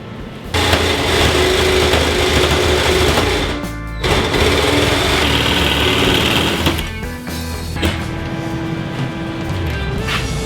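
Jigsaw cutting sheet metal for a custom hand-built blower belt guard, a loud steady buzzing saw run that stops briefly near the fourth second and then resumes, with small changes in pitch as the cut goes on.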